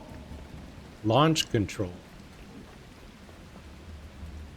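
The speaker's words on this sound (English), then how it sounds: "Now it's pouring rain, of course." Pouring rain in the video game The Last Caretaker, a steady hissing downpour running throughout at moderate level, briefly overlaid by a short spoken phrase near the start.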